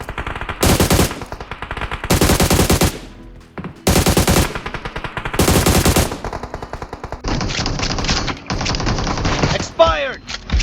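Bursts of automatic gunfire from the PUBG Mobile video game, several long loud rattling volleys with short gaps, then denser rapid fire and a brief sweeping effect near the end.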